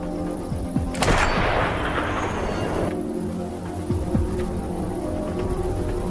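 A single heavy sniper gunshot booms out with a long, rumbling echo that fades over a couple of seconds, over a low steady hum.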